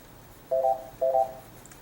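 A phone notification chirps twice in a quiet classroom setting, two short electronic tone bursts about half a second apart, clear and close with no talking.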